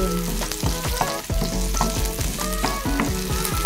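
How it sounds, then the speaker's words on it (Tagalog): Onions sizzling in a pan with garlic and dried shrimp, steady close frying crackle with rhythmic spatula scrapes and stirring, no voices. "Gisa-gisa lang natin ang ating sibuyas para mabango"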